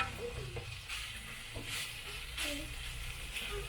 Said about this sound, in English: You see how I move it around, the bacon cooking?